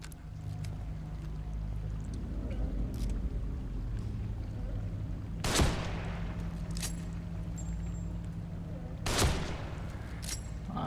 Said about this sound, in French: Après là on peut y aller aussi au sniper sachant que j'ai plein de balles.